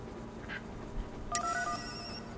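An incoming-message phone ring in the Sleeping Dogs video game, a single bright electronic tone that starts abruptly partway through and holds over a low, faint game background.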